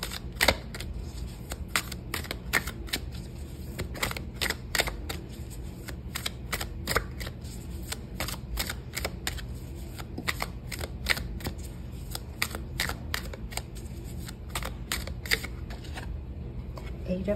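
Tarot cards are shuffled and pulled in a steady stream of crisp riffling snaps and flicks, close and fairly quiet, repeating throughout.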